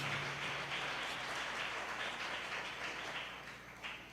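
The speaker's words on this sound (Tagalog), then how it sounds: "Palakpakan po natin ang ating mahal na Panginoon." A church congregation at a JMCIM preaching service breaks into sustained applause, a fairly distant, even wash of many hands clapping that tapers off slightly near the end.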